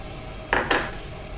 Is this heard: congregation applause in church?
no